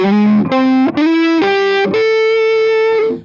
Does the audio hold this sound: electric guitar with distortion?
yes